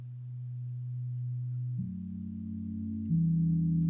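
Soft electric piano chords from the Lounge Lizard instrument, heavily low-passed so they sound muffled and dull, three sustained chords played one after another and growing slightly louder, with no other sound.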